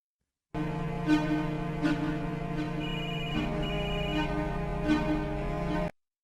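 A phone ringtone chimes over a sustained tonal background, repeating a short melodic pattern several times before stopping abruptly.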